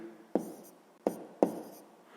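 Math notes are written by hand for a sixth-grade exercise, heard as three quiet, close pen taps and short scratches on paper, irregularly spaced, with no speech.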